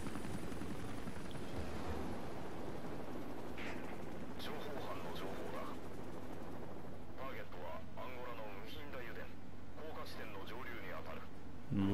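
A helicopter rotor in the video game Metal Gear Solid V throbs steadily throughout, with bursts of gunfire and someone talking over it.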